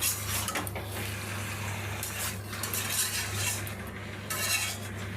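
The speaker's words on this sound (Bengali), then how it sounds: "নেড়ে নিচ্ছি আমি।" A utensil stirs meat in a cooking pot, giving steady scraping and clinking against the metal with a low simmer underneath, fairly close and without talk.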